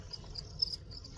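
Crickets kept in a breeding nest chirp faintly in a brief, steady high trill over a low background hum.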